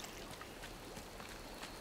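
Watering plants in the video game Disney Dreamlight Valley: a soft, quiet splashing and pouring of water, steady and faint throughout with a few light trickles.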